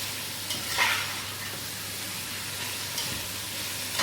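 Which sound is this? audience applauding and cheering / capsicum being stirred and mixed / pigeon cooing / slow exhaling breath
capsicum being stirred and mixed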